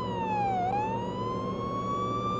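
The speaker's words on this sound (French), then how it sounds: "Allez, on va mettre la sirène hein, pour aller plus vite." Police car siren in the video game Police Simulator: Patrol Officers, a loud continuous wail that dips then slowly rises in pitch, steady and close throughout the clip with no talk.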